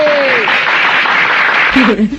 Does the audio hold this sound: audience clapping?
yes